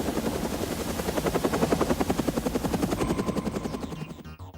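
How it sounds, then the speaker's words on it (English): A helicopter descends in The Matrix film scene, its rotor blades thumping in a loud, rapid, even chop that holds steady and then trails off abruptly near the end. "you forget about the helicopter coming down and shooting the office up"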